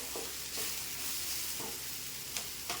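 Radish and coriander sauté in a pan for chutney, giving a steady close sizzle with several scraping stirs of a spoon across the pan.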